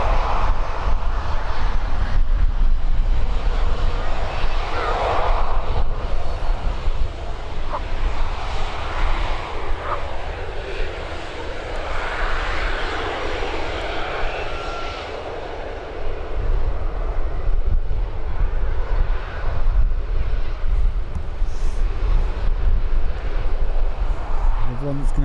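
TUI jet airliner departing Birmingham Airport, a loud, sustained roar of engines with broad rumbling noise and some wind buffeting on the microphone, holding strong for the whole stretch.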